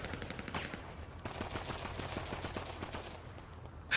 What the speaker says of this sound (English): Why do I keep getting shot in the head?